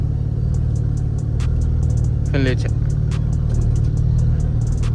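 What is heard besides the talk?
V6 Camaro engine revving with 80mm throttle body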